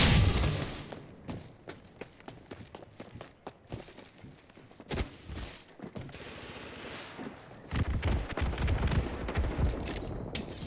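Gunfire in Apex Legends from a Kraber sniper rifle and a Volt SMG: repeated bursts of shots and sharp booms, fairly close, with the firing growing dense and heavy toward the end.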